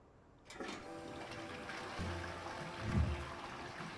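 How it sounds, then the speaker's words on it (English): Toilet flushing in the game Unpacking, a steady rushing water sound that starts abruptly and swells to a gurgling peak before settling into a continuous stream. "But you'll note that I flushed the toilet"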